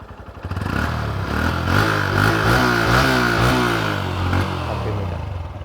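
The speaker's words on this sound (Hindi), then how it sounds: "ये लो, आइडियल कंडीशन पे engine sound, exhaust note, throttle देता हूँ।" A Honda Hornet CB 125 motorcycle idles close by, then its throttle is blipped into steady revs. The engine and exhaust note rise and fall several times, loud and continuous, with no talking over it.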